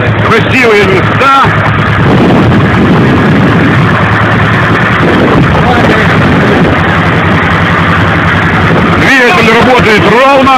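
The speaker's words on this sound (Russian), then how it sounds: "Двигатель работает ровно, газу и вперед." A motorboat engine runs loud and steady throughout on the Black Sea near Anapa, a constant low rumble with some choppy splashing near the end.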